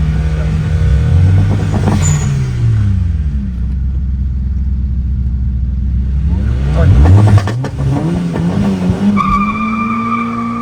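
Engines roar and rev as cars race, with pitch sweeping up and down through gear changes and a tire skid, under a loud rumble.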